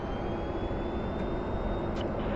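An airplane flying the landing pattern gives a steady broadband engine drone that holds even and constant throughout, with no talk.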